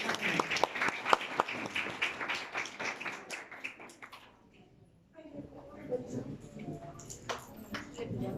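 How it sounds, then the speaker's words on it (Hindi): An audience claps for children at a Christmas Day church event, sharp close claps that thin out and fade to near quiet midway, then softer scattered applause with faint murmuring returns. "अगर तालियां बजा लेंगे हौसला अफजाई।"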